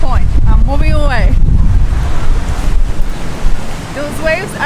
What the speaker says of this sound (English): Those waves are no joke